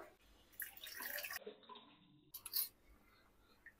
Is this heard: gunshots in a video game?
no